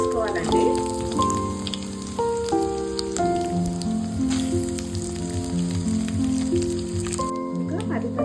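Cumin seeds and ten broken dried red chillies fry in hot oil with a steady, crackling sizzle that runs beneath a talking voice.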